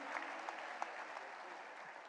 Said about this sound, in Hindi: एक बार जोरदार तालियों से अभिनंदन आदरणीय गुरु जी का।